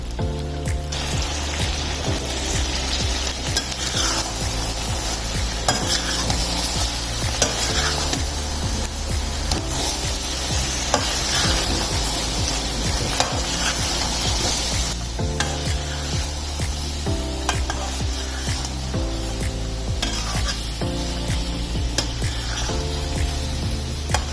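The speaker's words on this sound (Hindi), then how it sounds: "अब इसको हमने गोश्त को अच्छे से फ्राई कर लेना है" Mutton pieces frying in a karahi in a mix of ghee and oil for Shinwari karahi, a loud, steady sizzle throughout with stirring scrapes, while music plays along and nobody talks.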